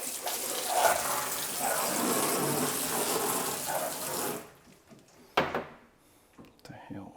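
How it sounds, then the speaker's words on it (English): A small hose sprayer hisses steadily while misting water to keep tile dust down during a floor tile installation, running for about four seconds and then cutting off, followed by a few faint knocks. "this is basically our water hose now, and has a little sprayer that's going to keep the dust down."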